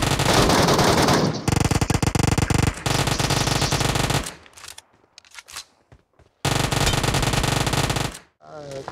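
Automatic gunfire from the BGMI battle royale game rattles in loud, dense bursts separated by brief gaps. Fainter shots and scattered noises fill the pauses between the longer volleys.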